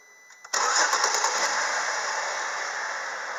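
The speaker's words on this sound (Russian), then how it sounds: "Работа двигателя на холостом ходу." A 3.2-litre 10HM engine from a 2007 Chevrolet Captiva with 187,000 km starts with a brief crank and settles into a steady, close, even idle with a smooth broadband whir and faint ticking.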